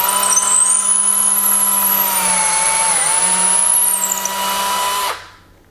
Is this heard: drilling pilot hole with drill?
yes